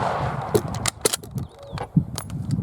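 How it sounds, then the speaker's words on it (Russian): A Mosin-Nagant sniper rifle fires blank cartridges, giving a few sharp, loud cracks spaced about a second apart, with mechanical clicks and handling noise between them. "Стреляю сейчас с холостых патронов."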